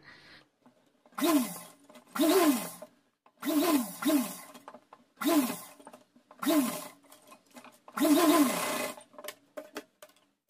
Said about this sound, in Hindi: यहाँ से इस तरीके से मोड़ते हुए हम सिलाई लगा लेंगे एल शेप में